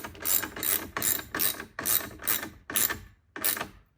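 A hand ratchet tightens the bolt on a car battery terminal in a 2021-or-later Yukon, Tahoe or Suburban engine bay, seven quick clicking bursts in a steady back-and-forth rhythm, close up with no talking.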